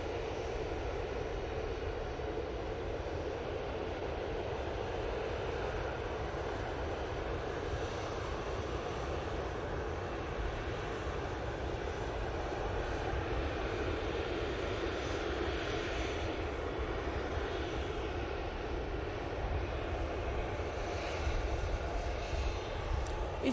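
Airplane engines at Manchester Airport, a steady, broad roaring rumble that holds at a constant level throughout, heard from a distance with no talking.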